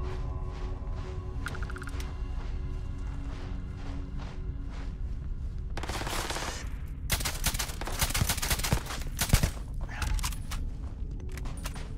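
Gunfire from a weapon in Starfield, a sci-fi shooter game, with scattered steps and mechanical clicks before dense bursts of rapid shots in the second half, loud and close.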